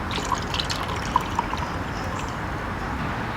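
Fruit juice poured from a shot glass into a solar-powered outdoor wasp trap, making a steady liquid trickle with a few small splashes that runs through the whole stretch at close range.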